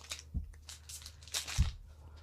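A trading card booster pack being torn open, with short crinkly foil rips and crackles in a few quick bursts, close and fairly quiet, including two sharper tearing pulls.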